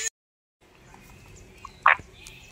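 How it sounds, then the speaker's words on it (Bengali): Birds at a safari park give a few brief, separate calls, one loud and close and others fainter, over a low background rumble. "পাখির আওয়াজ শুনতে বেশ ভালো লাগে।"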